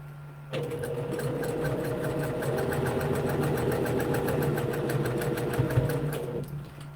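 A sewing machine stitches at a fast, even pace for about six seconds, a close mechanical whir with rapid regular clatter, with no talk over it.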